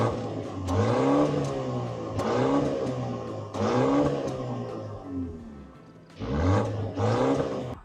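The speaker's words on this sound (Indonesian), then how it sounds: "dan buat lo yang penasaran sama bunyi knalpotnya, bunyinya kayak gini guys." A Mini JCW Countryman ALL4 exhaust revs hard in several loud, close bursts, each climbing and falling in pitch with short pauses between, and no talking over it.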